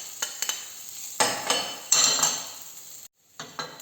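Guanciale, cured pork, hits a hot pan and starts sizzling, with scattered utensil clinks and stirring scrapes. Sharp bursts repeat over a steady frying hiss, with a brief silent gap near the end.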